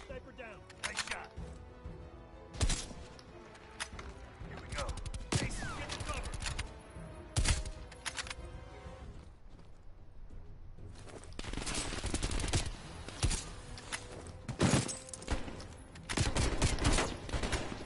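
Gunfire rattles through a Call of Duty Cold War campaign fight: repeated loud bursts and single shots, some close and sharp, others denser fusillades, with voices talking between and over the shooting.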